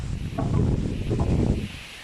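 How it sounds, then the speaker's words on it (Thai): Strong gusts rush across a vegetable garden of flowering eggplant and water spinach, a steady broadband roar with rustling plants and microphone buffeting throughout, loud and close, with no talk. "ลมแรงแรงค่ะวันนี้"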